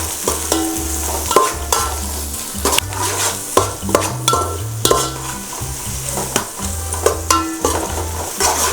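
Onions sizzle loudly in hot oil in a pan for an Andhra-style chicken pulao, with repeated scraping strokes of a spoon stirring them and a low hum beneath; no one speaks.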